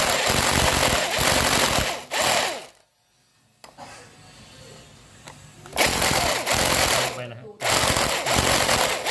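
A power drill whines loudly boring a 6.5 mm hole during a solar panel installation, in several long bursts, stopping briefly in the middle before starting up again, close by.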